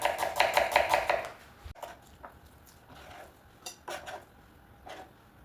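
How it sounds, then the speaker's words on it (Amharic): A knife slicing an onion on a cutting board, a quick run of rapid rhythmic chops at first, then slower, scattered cuts and board knocks, close-up with no talk. "አንድ ራስ ሽንኩርት ስላይስስ እንከትፈዋለን።"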